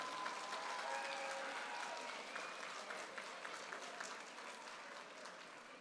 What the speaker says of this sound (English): Round of applause for Blake, ladies and gentlemen.